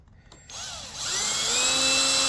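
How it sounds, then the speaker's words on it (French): A power drill bores small holes in the corners, starting with a few clicks, then a sharp whine that spins up and holds steady, loud and close, with no voices. "Alors on perce des petits trous dans les angles."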